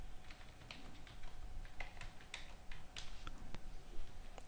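Card details being tapped out on a computer keyboard: quiet, irregular clicks of keys spread steadily throughout at close range.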